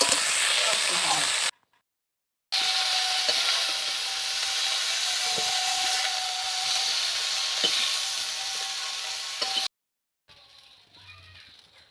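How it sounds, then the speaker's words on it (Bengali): Cauliflower frying lightly in oil in a kadai, a loud steady sizzle with stirring, broken by two short silences and ending in quieter clinks as the florets are lifted out onto a plate. "ফুলকপিটা আমি এখানে হালকা করে ভেজে নিয়েছি এবার আমি ফুলকপিগুলোকে সব কড়া থেকে তুলে নেবো একটা থালে"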